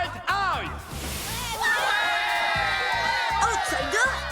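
A crowd cheers and whoops for Valt Aoi at a Beyblade battle arena, with loud sustained shouting and yells filling the space.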